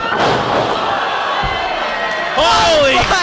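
Loud wrestling arena crowd roaring and cheering after a move off the top rope, a dense sustained wall of voices that swells with whoops near the end, a thud partway through.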